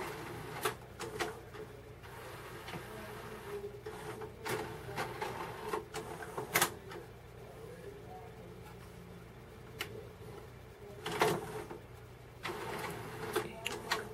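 A Sony MHC-ZX30AV stereo's CD changer with worn deck belts cycles through its discs, giving a run of clicks, whirs and mechanical clunks at irregular intervals over a steady low hum, close and fairly quiet.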